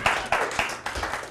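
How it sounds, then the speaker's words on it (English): Studio audience clapping on a talk show, loud and close, in a few quick bursts that rise and fade within a second or so. "That's where you guys clap."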